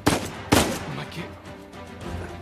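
Two loud, sharp gunshots from the video game Uncharted 4, about half a second apart, each with a short echoing tail, followed by low background rumble.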